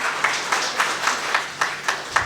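Audience at a Hindi poetry recital (kavi sammelan) clapping in slow, regular rhythmic claps, roughly one every quarter second, fairly close and unaccompanied.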